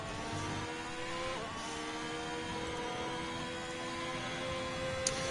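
Race car engine in a racing video game, held at a steady drone with layered harmonics while the car runs its out lap at the Hungary round, building heat in medium tyres; a continuous loud hum that does not stop.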